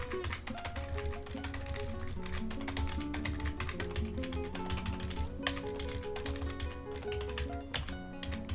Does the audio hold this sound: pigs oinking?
no